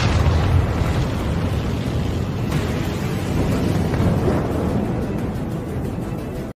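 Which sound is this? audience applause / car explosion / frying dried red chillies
car explosion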